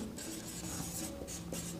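A marker or chalk scratches steadily across a board during a class 12 maths lesson on the equation of a plane, a close, continuous rubbing stroke sound with small bumps between strokes.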